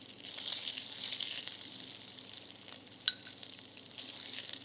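Tomato coulis hitting a hot pan for spaghetti napolitaines, sizzling and frying steadily and close, with light stirring scrapes and one sharp clink partway through.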